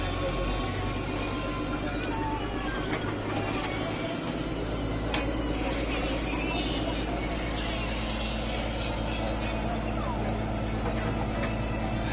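Passenger launch ferry bound for Rangabali, a constant heavy engine rumble and mechanical drone as it departs, steady and loud throughout, with faint clanks and background activity.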